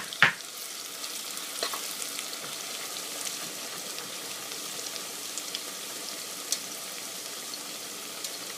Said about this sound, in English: Add oil and add some chopped onions